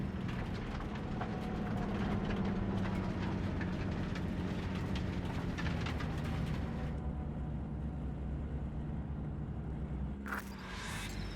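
A train in the video game Cyberpunk 2077 rumbles and clatters steadily at a distance, a low, faint rolling drone that thins out near the end.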